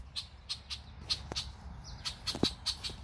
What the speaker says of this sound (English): Oh, red-winged blackbird.